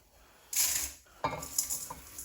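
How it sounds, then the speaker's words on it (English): A wooden spoon knocks and scrapes in a big bowl as wild garlic salt is mixed, giving two or three clattering bursts with brief scraping between, close and fairly quiet, with no talk. "wooden spoon, big bowl to mix it up in, and let's combine it"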